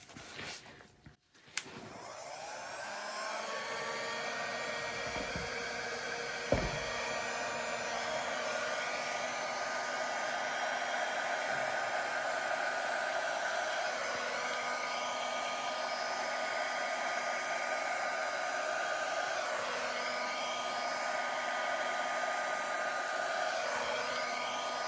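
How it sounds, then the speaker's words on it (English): A hair dryer on its low setting whirs steadily at a low, even hum for a long stretch after a brief click at the start, with no voices. "Use my hair dryer again, but I'm going to use it on low this time."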